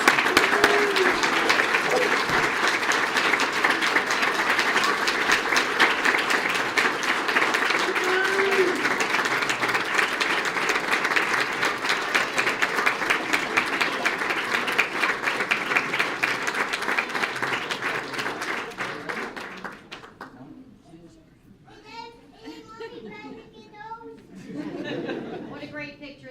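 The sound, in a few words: audience applause at police ceremony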